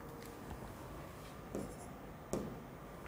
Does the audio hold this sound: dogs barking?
no